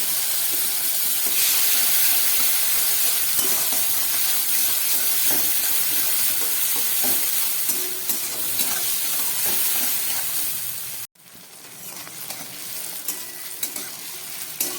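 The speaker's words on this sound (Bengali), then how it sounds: "কেটে রাখা পেঁয়াজ আর টমেটোটাকে আমি একসঙ্গেই ভেজে নেব।" Chopped onion and tomato fry together in a pan, a loud continuous sizzle with stirring scrapes that cuts off abruptly and then resumes more quietly.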